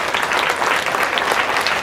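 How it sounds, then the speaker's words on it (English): A school crowd claps for an invited guest at a student government swearing-in ceremony at Springhurst, with steady, dense, close applause filling the whole stretch without break. "give Ms. Stewart Cousins a round of applause"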